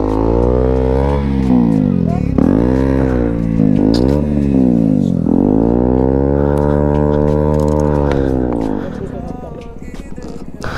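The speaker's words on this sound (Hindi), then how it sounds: "देखा लड़की बाइक चला रही है, वो देखो" A motorcycle engine revs up and down close by, its pitch sweeping higher and lower in repeated surges as the bike is ridden, then dropping to a rougher, quieter idle near the end.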